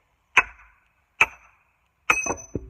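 Three sharp axe impacts splitting straight-grained wood, with bright metallic pinging, the last a quick double strike, each cracking through an otherwise quiet space.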